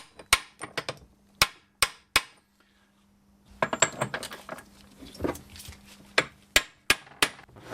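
Sharp metallic hammer taps on a socket, driving back the lock tabs on a Mini engine during a rebuild, in irregular single strikes and short clusters, close and loud, with a quiet pause in the middle.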